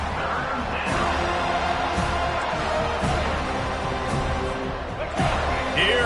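A home crowd at a college football game roars and cheers steadily in a big stadium, a dense wall of noise under a commentator's voice.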